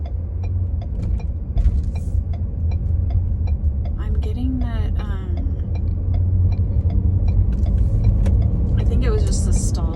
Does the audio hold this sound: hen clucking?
no